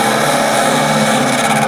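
Lathe tool cutting a spinning resin and wood piece at about 1000 RPM, a continuous loud rough scraping whir that holds steady throughout, no voices.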